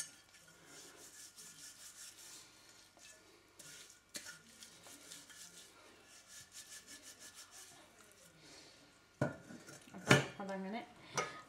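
A brass nilavilakku oil lamp is scrubbed by hand with home cleaning ingredients, giving repeated rasping, rubbing strokes and light metallic clinks, with a sharper clatter of handling near the end.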